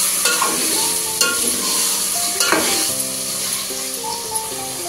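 Chicken pieces mixed with softened tomato in a frying pan, giving a loud continuous sizzle with a few scraping strokes of a spoon, and background music.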